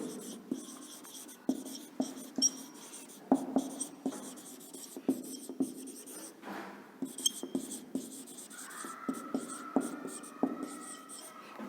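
Marker or chalk strokes from a teacher writing an answer on a board in a classroom, a steady series of short scratchy taps and scrapes, close and moderately loud, with no talking.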